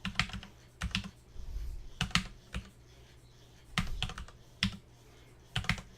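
Keys clatter on a computer keyboard while an IP address is entered into PuTTY, quiet close taps in short clustered bursts separated by pauses, with no talking.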